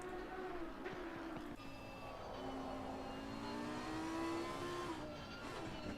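A Trofeo Sprint Cup race car engine in Assetto Corsa Competizione at Catalunya, a steady close-up revving drone with rising and falling pitch through gear changes, loud and continuous with no talking.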